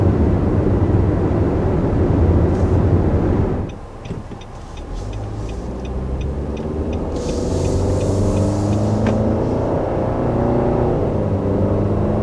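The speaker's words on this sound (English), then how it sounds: "it seemed like the CVT did a pretty good job of keeping it in its power band and just getting it up to speed as quickly as possible" A 2020 Nissan Rogue with a CVT accelerates from a brief lull into a steady, rising engine drone, loud and continuous under road and wind noise.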